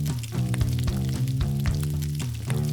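Onions sizzle steadily in butter in a hot pan, a soft continuous crackle with faint rhythmic clinks of stirring.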